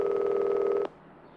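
Telephone ringing in the horror video game Reporter 2 Lite, a steady electronic ring tone that stops abruptly, leaving faint room noise.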